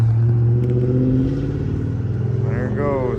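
A car's engine rumbles nearby with a steady, deep hum as it pulls away, the tone rising slightly toward the end, while a person talks over it.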